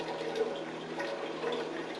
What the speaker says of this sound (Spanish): El agua fluye de un tanque a otro a cierta velocidad.